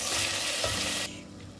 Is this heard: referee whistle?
no